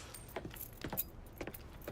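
Car keys jangle a few times in short bursts in the Mafia 3 video game, close and fairly quiet, with no talk over them.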